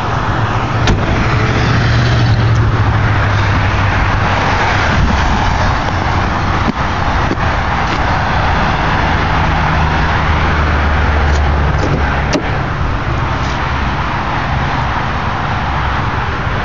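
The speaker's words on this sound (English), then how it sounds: "Car drives smooth. Car's quiet." A 2000 Ford Crown Victoria cruising along, its engine and road noise forming a steady, smooth interior rumble with a low hum throughout and no talking.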